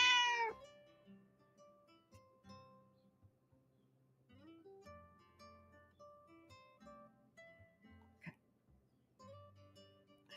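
Several cats meowing in a quiet room, a long rising meow at the start followed by scattered shorter mews and chirps spread across the clip, close and moderately soft with nothing else over them.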